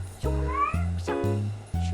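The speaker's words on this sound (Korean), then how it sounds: "바가지 긁는 고양이가 있어가지고" A cat meows insistently indoors, several drawn-out meows in close succession, loud and near.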